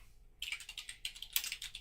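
Computer keyboard with a fault that types multiple letters, tapped in two quick bursts of close, crisp key clicks with a short pause between, no voices.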